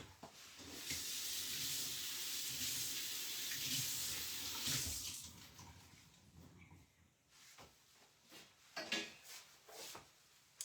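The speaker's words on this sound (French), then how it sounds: "Je vais aller rincer mon éponge." A tap runs in a steady hiss for about five seconds as a painting sponge is rinsed beneath it, then stops, leaving quieter clunks and handling sounds nearby.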